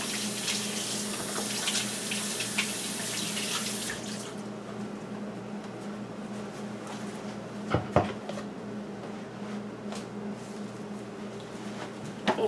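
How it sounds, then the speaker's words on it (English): Tap water runs into a sink for the first four seconds, a steady broadband splash while hands are washed, then cuts off, leaving a quiet room with a few small knocks and clatters. "I'm going to wash my hands"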